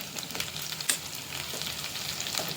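Busy crackling sizzle of curry leaves tossed into hot oil over frying chicken roast, close and continuous with sharp pops and spatters.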